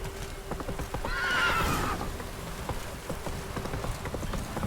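A horse in the video game The Witcher 3 neighs loudly and shrilly over a steady clip-clop of galloping hooves, with the hoofbeats continuing after the whinny fades.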